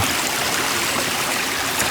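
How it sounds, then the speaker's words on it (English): Steady broadband rush of water running off beside a hiking trail on the Duck River Trail near Cullman, Alabama, a continuous near stream-like trickle filling the whole stretch with no voices. "I'll show you where the water's running off to."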